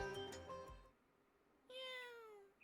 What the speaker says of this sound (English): What woke me up was not an alarm, not the alarm that's set for 7 a.m., but the sound of a cat?